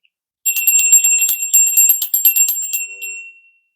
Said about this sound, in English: We're going to ring the bell and then get started.